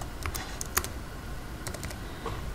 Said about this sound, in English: So I'm just going to type this